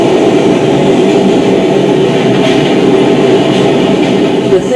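A loud New York City subway train arriving rumbles and roars close by, a steady dense mechanical din with faint wheel clatter throughout.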